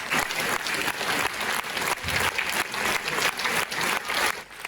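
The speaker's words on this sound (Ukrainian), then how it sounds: "Овації лунали кілька хвилин." A concert audience gives a long ovation celebrating a folk artist's 30-year career, with sustained, even applause from a large crowd that fills the space at moderate loudness and carries on without break or voices.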